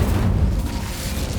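Incendio fire spell cast in Hogwarts Legacy gameplay: a dense, loud low whooshing blast that rumbles steadily through the short moment, with no voices.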